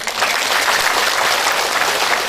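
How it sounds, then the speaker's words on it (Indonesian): Loud, steady applause from an audience at a large Islamic sermon gathering marking a police anniversary in Southeast Sulawesi, dense clapping sustained throughout without a break. "Tepuk tangan dulu buat semuanya."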